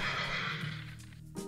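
A single loud, close horse whinny rings out and fades, with a short snort at the end and no talking.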